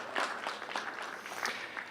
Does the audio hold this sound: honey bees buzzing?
no